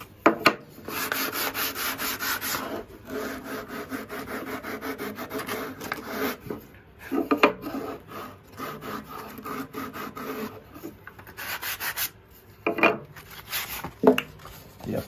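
Hand sanding a car part with a sanding block, rounding and smoothing defects on a retro car piece; long steady rubbing strokes in close bursts with brief pauses between passes.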